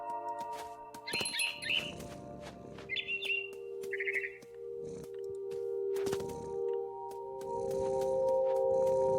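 Small birds chirp in short, bright bursts over ambient game music and steady tones in What Remains of Edith Finch. The calls come in scattered clusters, fairly faint.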